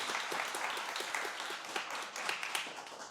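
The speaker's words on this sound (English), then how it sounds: "we can clap for Carolina" An audience at a talk claps together in a steady patter of many hands, moderately loud and continuous for a few seconds, with no speech over it.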